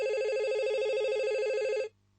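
A telephone rings in one steady electronic trill lasting nearly two seconds, then cuts off abruptly into quiet, with no voices present.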